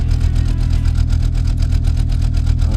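A powerful inline six engine idles at about 900 RPM in the Automation car game, a loud, steady, rhythmic low throb with evenly pulsing firing beats and no talk over it.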